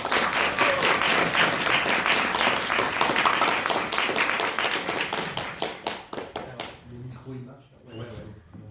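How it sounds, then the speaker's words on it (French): A seated audience at a public talk on Total's activities in Yemen applauds its guests with dense, sustained clapping that thins out over the last few seconds as a voice begins speaking. "Et un applaudissement pour nos invités."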